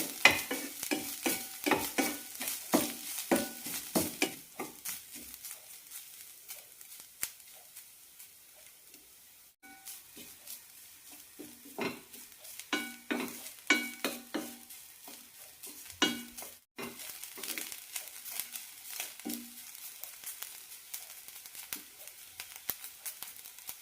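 Grated coconut roasts in a teaspoon of ghee in a pan over a low to medium flame, giving a quiet sizzle broken by repeated scraping stirs in uneven bursts, with no talking.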